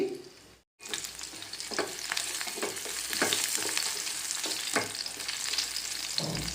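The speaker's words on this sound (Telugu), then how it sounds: "ఆయిల్ హీట్ అయిందండి కొద్దిగా ఒక స్పూన్ మినపప్పు నాలుగైదు వెల్లుల్లి రెబ్బలు వేసి ఫ్రై చేసుకోవాలి" A spoonful of urad dal and four or five garlic cloves fry in hot oil, a close steady sizzle that starts after a brief gap and continues with occasional stirring clicks.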